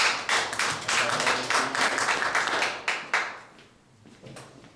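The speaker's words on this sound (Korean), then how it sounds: "이 한 말씀 전해주신 하상균 목사님께 박수 한번 부탁드립니다" A church prayer-meeting audience applauds the pastor, brisk hand clapping for about three seconds before fading to a quiet room.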